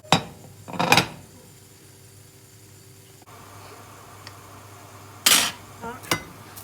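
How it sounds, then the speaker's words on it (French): A plate is picked up and set down in a kitchen, a few sharp ceramic clinks and knocks separated by quiet moments over a faint background hum, with a brief voice in between. "je vais prendre une assiette, comme ça je vais pouvoir les dresser directement dans mon assiette"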